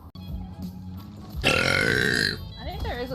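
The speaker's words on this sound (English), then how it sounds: "Low burps tonight." A deep, low burp lasting about a second rings out loud and close after a quieter stretch, followed by soft trailing vocal sounds.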